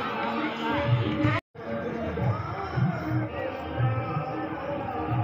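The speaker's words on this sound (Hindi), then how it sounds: "देख सकते हैं भीड़ को, देख सकते हैं आप लोग काफ़ी भीड़ है यहां पर" A dense crowd at a village Ram festival fills the air with a steady murmur of overlapping voices and nearby chatter, interrupted by a brief moment of silence.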